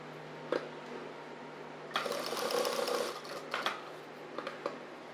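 A sewing machine stitches a blouse in a tailoring workshop, running in a steady burst of a little over a second, with a few short clicks and taps before and after against a quiet background hum.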